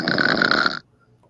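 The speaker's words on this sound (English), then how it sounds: "Let's see who's got the stronger snore or the louder snore than I do." A woman snores loudly for about 0.8 seconds, a single harsh, rasping snore close to the recorder. It cuts off sharply into near silence.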